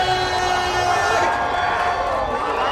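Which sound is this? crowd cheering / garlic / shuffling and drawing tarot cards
crowd cheering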